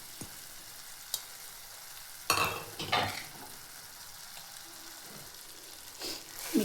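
Cooked dill greens and boiled black-eyed beans stirred together in a pan: a few distinct scraping strokes of a spoon over a faint, low sizzle, with quiet gaps between.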